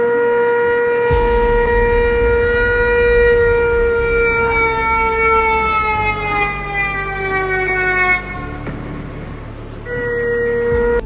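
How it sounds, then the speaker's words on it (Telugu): Several civil defense sirens wail together in long, sustained tones that slowly bend in pitch, loud and steady, dipping briefly before resuming. "పాకిస్తాన్లో సైరన్స్ సుప్రభాతంలో మోగుతున్నాయి."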